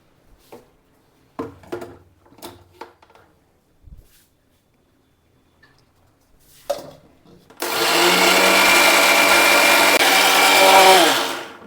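A mixer grinder grinds dosa batter with a little water, whirring loudly and steadily for several seconds after a few scattered knocks and clatters, then winds down at the end.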